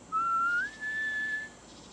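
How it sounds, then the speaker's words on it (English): A thin, clear whistle holds a steady note, slides upward, then sustains a higher pitch before stopping, alone over faint background hiss. "Then the whistling began."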